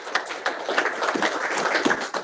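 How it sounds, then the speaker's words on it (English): Dense, steady clapping from a crowd fills the moment, an even patter of many hands with no voices rising above it. "let's give everybody a round of applause for that"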